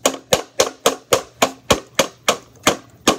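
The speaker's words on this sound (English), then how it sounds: "now we can start using our hammers" Sharp, hollow knocks of a hammer on a plastic toy lawnmower repeat in a steady rhythm, about a dozen hits close by, each ringing briefly before the next.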